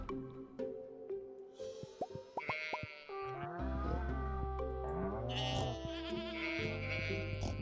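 Sheep bleating in the farming game Stardew Valley Expanded, several short bleats mixed with plopping sound effects over steady game music.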